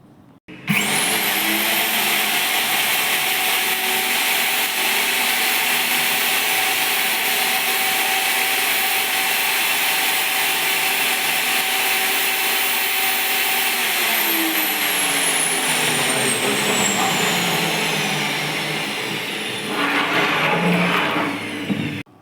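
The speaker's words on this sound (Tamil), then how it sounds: "மிஷினை ஆன் பண்ணிவிட்டு உங்களுக்கு வந்துட்டு ட்ரில் பண்ணி காமிக்கிறேன்" An AYUDH HS-114 hole saw machine whines up to speed and runs at a steady high-pitched roar for a long stretch, then slows and changes pitch near the end.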